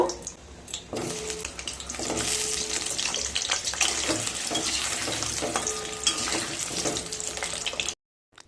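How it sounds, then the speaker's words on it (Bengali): Potatoes frying in hot mustard oil in a wok, a steady crackling sizzle with occasional stirring clinks and scrapes, close and continuous until it cuts off near the end. "তেলটা গরম হয়ে গেছে এবার আলুগুলোকে ভেজে নেব"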